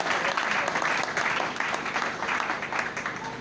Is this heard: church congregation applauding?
yes